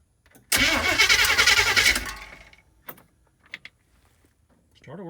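A Chevy van's starter cranks the engine in one loud burst of about a second and a half that fades out, followed by faint knocks and a brief voice near the end.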